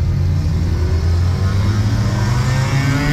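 A Nissan GT-R engine revs steadily and loudly at a nighttime street cruise on Woodward Avenue near Detroit, a sustained deep roar alone without talk.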